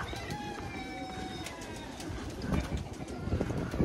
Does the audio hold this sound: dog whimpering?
no